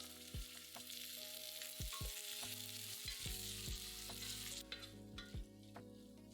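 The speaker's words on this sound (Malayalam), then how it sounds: "അതിലേക്ക് കുറച്ച് കറിവേപ്പില, 4 പച്ചമുളക് കീറിയത്, 2 മീഡിയം സവാള സ്ലൈസായിട്ട് അരിഞ്ഞത്, ഇത്രയും ഇട്ട് നന്നായിട്ട് വഴറ്റുക." Sliced onions, slit green chillies and curry leaves sauté in hot oil in a pan, with a steady bright sizzle and repeated spoon clanks and scrapes against the pan; no one talks.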